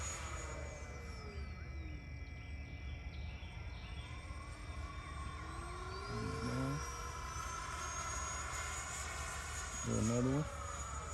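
An FMS Yak-130 70mm electric ducted-fan model jet flies overhead with a steady high whine that rises and falls as it passes, swelling louder around two moments, while people talk faintly nearby.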